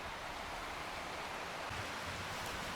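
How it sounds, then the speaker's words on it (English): A river flows by in the evening near the Pacific Crest Trail: a steady, even rushing of water, close and unbroken, with no voices. "Listen to the soothing sounds of the river going by in the evening."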